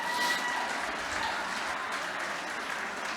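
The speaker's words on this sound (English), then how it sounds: "one more big round of applause, please" Guests at a charity gala for Miriam's Kitchen applauding, a broad, even wash of clapping from a sizable crowd in a large room, steady and moderately loud from start to finish.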